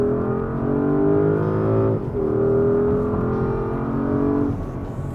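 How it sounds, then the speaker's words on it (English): A 2024 Porsche Cayenne S V8 accelerates hard, its loud engine note climbing steadily in pitch through one gear, dropping at a shift, then climbing again before easing off. "Gotta love the sound of a V8."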